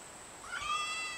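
A kitten just over a month old gives a single short, faint meow, rising and falling in pitch over a quiet background hiss.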